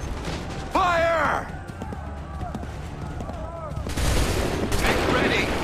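Musket volley fired on command in Assassin's Creed 3, a shouted order followed by scattered gunfire and a burst of shots, with a loud crackling volley near the end amid battlefield noise.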